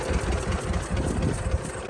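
An 83-year-old John Deere B tractor engine runs after being freed from a stuck state, a steady low throbbing idle with a loping, uneven pulse, close and fairly loud.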